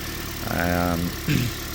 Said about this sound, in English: you can hear the engine is running nice. It's not shaking or anything like that.